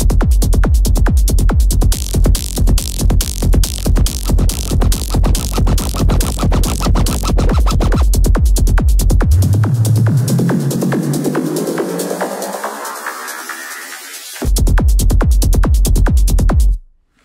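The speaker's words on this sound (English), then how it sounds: "So it's basically a psytrance beat." A psytrance beat from a preset in the Phase Plant synth: a driving, rapid four-on-the-floor kick-and-bass pulse, then a long rising sweep and drop-out before the loud beat slams back in.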